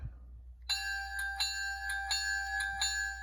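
An electronic bell from a G scale model train sound decoder rings steadily, clanging in a regular rhythm with a bright sustained tone, moderately loud over a low hum, slightly muffled by foam.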